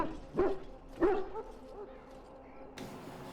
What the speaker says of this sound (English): Put the muzzle on the dog.